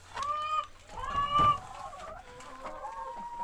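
Hens clucking close by, a few birds calling over one another in short, bouncing phrases with a steady murmur of farmyard noise underneath.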